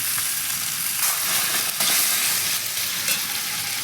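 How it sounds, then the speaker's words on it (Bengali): Hot water poured onto crab cooking in a fried spice mixture, producing a loud, steady hiss and sizzle that fills the whole stretch without pause. "কাঁকড়াটা এখন গরম জল দিয়ে দেবো"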